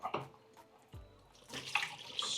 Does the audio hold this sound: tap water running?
yes